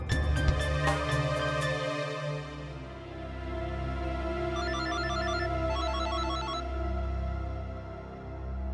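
A telephone ringing, with a tonal ringtone melody that repeats in short patterned bursts over a steady background, fairly loud and with no talk over it.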